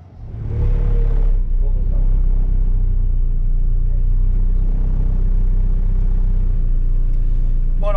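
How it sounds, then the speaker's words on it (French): A Fiat 500 rolls up and crosses a finish line, its engine a loud, steady low rumble close by that builds quickly and holds without letting up. "Fiat 500 qui arrive et qui va passer la ligne d'arrivée."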